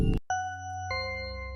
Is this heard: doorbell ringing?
yes